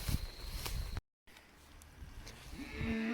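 Cattle moo on a rotational grazing pasture, a single clear bellow with rising tone near the end after rustling ambient field noise and a brief dropout.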